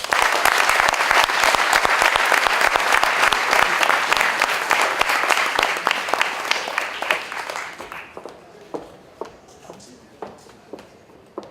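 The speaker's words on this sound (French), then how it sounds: "Je vous demande de faire un tonnerre d'applaudissements pour la directrice de la section féminine" Thunderous applause from a crowd at an opening ceremony in Villejuif, dense and loud clapping for several seconds that thins out into scattered individual claps and a little shuffling before fading.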